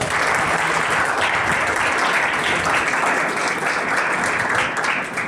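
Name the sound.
audience applause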